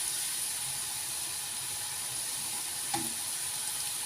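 Pinecone-shaped manti dumplings fry in hot oil until golden, giving a steady, even sizzle with one small click or stir partway through.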